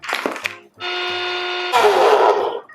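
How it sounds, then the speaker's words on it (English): A kitchen blender grinds coriander and cumin seeds. A brief clatter comes first, then a loud, steady motor whine that jumps to a harsher, louder grind partway through before cutting off. "Then we're going to blend it."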